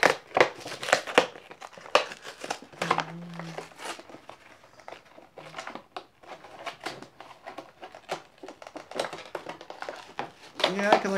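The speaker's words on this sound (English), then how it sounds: "grab this little strip of plastic and just pull that off." A plastic strip is pulled off Amiibo figure packaging, giving scattered crinkles, taps and tearing sounds that come in short bursts across the span, mixed with a few bits of talk.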